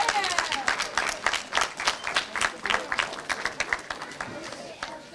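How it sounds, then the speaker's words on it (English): A crowd applauds a kart racing podium finisher at a British Kart Championship prize-giving, with steady clapping running for several seconds under an announcer's voice. "please give a huge round of applause"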